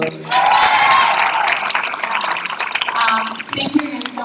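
A jazz concert audience applauds in sustained, crackling bursts of clapping, with a voice talking over the noise as it continues, swelling briefly toward the end.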